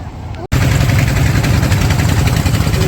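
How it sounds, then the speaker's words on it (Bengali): A trawler boat's engine on a river trip in hilly Sylhet, heading toward Sada Pathor, cutting in after a brief pause and then running at a loud, steady, close-up drone with a low rumble and a fast mechanical throb. "আমাদের ট্রলার ছেড়ে দিচ্ছে, আমরা চলে যেতেছি।"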